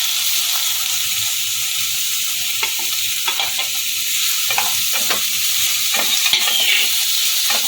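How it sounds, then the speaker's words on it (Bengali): Marinated chicken fries with capsicum in a pan for Kolkata street-style chicken chowmein, a loud steady sizzle with scattered stirring clicks and scrapes throughout. "চিকেনটাকে এবার একসাথে ভাজা ভাজা করে দেবো"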